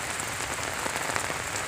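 Heavy, relentless monsoon rain in Assam pouring down during flooding, a dense, steady wash of drops drumming on surfaces close by, with no voices.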